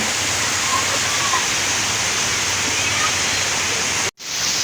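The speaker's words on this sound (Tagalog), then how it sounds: "dito na kami, lakas ng ulan" Heavy rain pours down in a dense, steady roar, loud and close, with a brief sharp dropout near the end.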